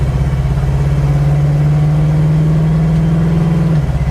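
A 1977 Chevy Monte Carlo with a 342 rear end pulls through its gears, its engine holding a loud, steady rising drone close by before easing off at the end.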